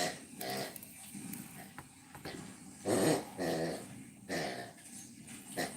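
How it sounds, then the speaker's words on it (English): Dogs playing with a toy give off soft growls, whimpers and snuffling yips in irregular bursts, fairly quiet and close, with no talking. "that weird noise you're hearing is the dogs playing with the toy"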